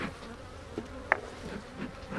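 Honey bees buzz around an opened hive box during a vertical hive split, a faint, steady swarming hum with one soft click near the middle.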